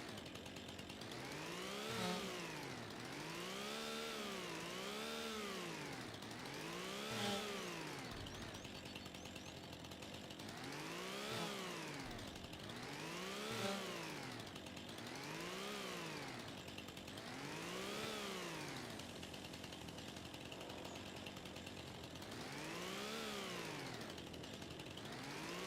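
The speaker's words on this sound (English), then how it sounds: "you just hold the chainsaw down" Chainsaw felling trees in Farming Simulator 25, revving in repeated rising and falling surges, loud and close, about ten cycles in steady rhythm with no talk.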